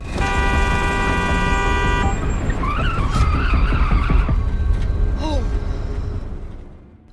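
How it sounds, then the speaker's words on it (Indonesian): A car overtakes another in a film scene, tires skidding loudly over a steady engine roar, with a sustained horn blast at the start and a few squeals before the sound fades out. "Dengan begitu Rachel pun langsung menyalipnya sembari mengacungkan jari tengah."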